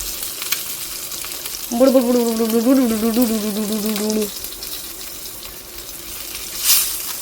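Fish fries in oil in a pan after being flipped, giving a continuous close sizzle, while a humming or sung voice rises over it for a couple of seconds in the middle.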